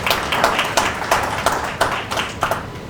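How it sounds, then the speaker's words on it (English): Clapping at an awards ceremony, a modest group of hands producing distinct, loosely rhythmic claps close by, fairly loud and without talk. "A round of applause, please."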